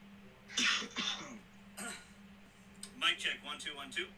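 A man coughs a few times and clears his throat in short bursts, close to a microphone, with brief pauses between and a low electrical hum beneath.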